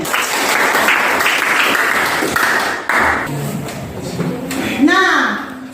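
Students applauding in a school classroom at SMPN 1 Sidua Ori, a dense burst of clapping in the opening seconds that thins out as a teacher's voice and room noise take over.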